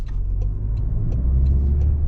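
A 2025 Toyota Corolla XSE Hatchback rolls slowly through a tight turn-around, with a steady low road and engine rumble heard from inside the cabin and faint regular ticking over it.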